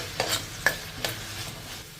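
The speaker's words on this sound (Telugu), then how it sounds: "ఇంకా వీటిని మనం మీడియం ఫ్లేమ్కి హై ఫ్లేమ్కి అడ్జస్ట్ చేసుకుంటూ ఒక 5-6 నిమిషాలు ఫ్రై చేసేసుకోవాలి." Potato pieces fry in a pan over a medium-to-high flame, with a soft steady sizzle under a few crisp scraping clinks as the pieces are stirred.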